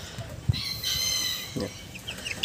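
Four newly hatched chicks on the ground give a few soft, faint peeps and chirps at close range, scattered briefly among quiet farmyard background.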